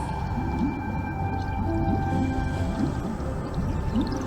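Electra, a siren in Honkai Star Rail, calls out with a whale-like song: rising and falling tonal moans repeat over a low rumbling undersea ambience, close and fairly loud, with no speech.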